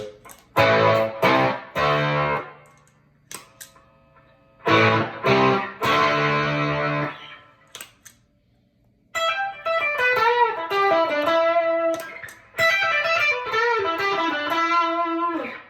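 An electric guitar through a thick, buzzy octave fuzz pedal plays two chord phrases, then a brighter, higher single-note line with a synthetic octave-like edge.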